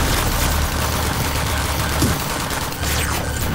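Loud, dense gunfire fills a G.I. Joe: The Rise of Cobra video game firefight, a steady barrage of shots with a brief whooshing sweep near the middle and no pauses throughout.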